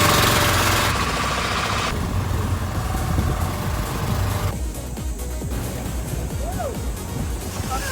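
A motorboat engine drones steadily through crashing waves and wind on a sunrise run across open water in the Philippines, heading toward an underground river. The noise is loud and broadband throughout, and muffled voices sit beneath it.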